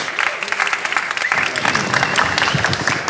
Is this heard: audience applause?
yes